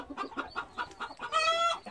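Young chicks cheep in a brooder cage, a run of short repeated peeps close by that turns into a louder, sustained chirping near the end.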